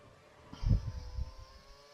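Race cars in a GP3 racing video game at Spain pass on track: engine whir and revving swell briefly, then recede, with a train of cars close behind.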